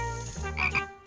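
A green tree frog in a children's animated story croaks in a short, bright, ribbity call over sustained background music, close and moderately loud.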